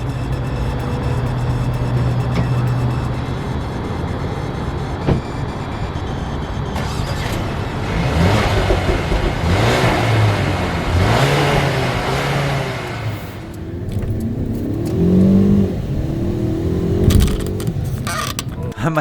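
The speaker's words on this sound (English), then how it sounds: "let's take the 2020 Mercedes-Benz CLA 250 for a spin." A 2020 Mercedes-Benz CLA 250 pulls away hard, its engine rising in pitch through several upshifts over road and wind noise, with a voice talking briefly partway through.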